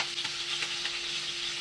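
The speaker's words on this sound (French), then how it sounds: "Je mélange." Fish couscous sauce in a pot is stirred over heat, a continuous bright sizzle with faint rhythmic scrapes of a spoon, close and steady without speech.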